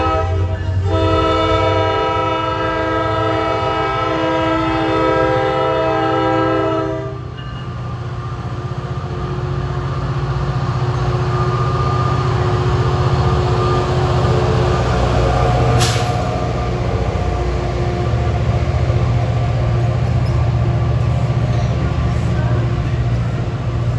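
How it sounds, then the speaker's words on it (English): A NJT train, number 1169 from Hoboken to Suffern, passes behind a PL42AC locomotive, sounding a loud multi-tone horn for several seconds before the steady rumble and clatter of the cars rolling by close up. "Train 1169 from Hoboken to Suffern with one of those PL42 ACs."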